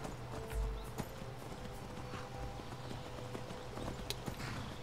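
A horse running in the Skyrim video game, its hooves making steady, rapid clip-clop beats at moderate volume over a low game-ambience hum.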